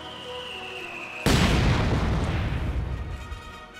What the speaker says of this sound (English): These guys have a mortar, which is pretty good.